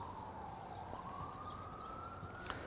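Ambulance siren near Mount Sinai hospital in New York, by Central Park, a single drawn-out wailing tone that slowly rises in pitch, heard at a distance over a constant bed of city and park noise.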